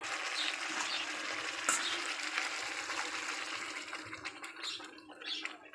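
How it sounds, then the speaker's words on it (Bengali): Chicken in a pan sizzles loudly and steadily after rinse water from a grinding stone is poured in, a broad hissing fry with a sharp splash near the start that fades slightly toward the end. "তো সেই জন্য আমি এই শিল ধোয়া জলটা এই চিকেনে দিয়ে দেবো।"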